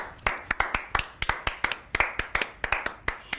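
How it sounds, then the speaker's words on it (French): Actors clap in a theatre, a close, crisp run of individual handclaps at an uneven but lively rhythm, few hands rather than a full crowd, with nothing spoken over them. "Devant la rampe, les acteurs applaudissent la scène."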